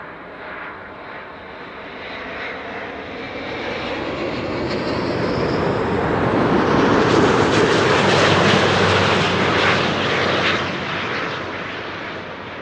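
A Delta Airlines jet, an eight-year-old plane, lands at Amsterdam Schiphol Airport. Its engine roar builds over several seconds, peaks loud and broad as it passes close, then starts to fade, with no talk.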